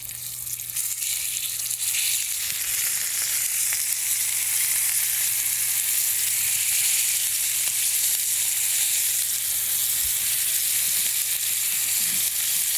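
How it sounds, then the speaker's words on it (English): Pork chops searing in a hot pan give a loud, steady, hissing sizzle that holds evenly from start to finish, close up and alone, with only a faint low hum beneath it. "now we're going directly into the pan with our pork chops"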